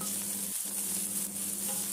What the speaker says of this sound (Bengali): তেল গরম করে পেঁয়াজ কুচি দিয়ে দিলাম সামান্য নুন দিলাম